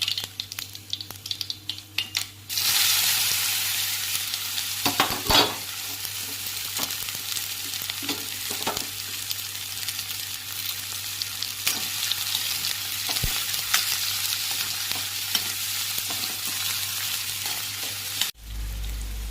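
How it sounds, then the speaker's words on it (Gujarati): Mustard seeds, cumin, asafoetida and ridge gourd hit hot oil for a Gujarati sev turiya curry, breaking into a loud, steady sizzle that starts sharply after a short pause and crackles on without a break. "રાઈ, જીરું, હિંગ અને તુરિયાનું વઘાર કરવાનું."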